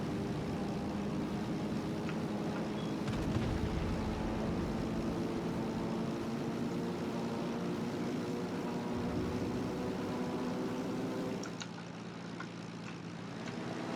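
Engine drone of carrier-launched armor-piercing bombers lifting off the Shokaku in World of Warships, a steady, loud rumbling hum held throughout, easing slightly near the end.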